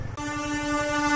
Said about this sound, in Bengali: যে ট্রেনটার কথা ভাবছিলাম সেটাই রাত্রে ট্রেনটা চলে এসছে